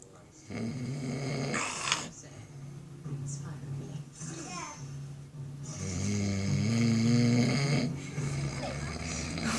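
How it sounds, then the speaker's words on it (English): A person snoring loudly in repeated heavy, rattling breaths, with a dog-like growling quality, while people talk over parts of it. "He's snoring so much."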